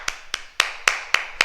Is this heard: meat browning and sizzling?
no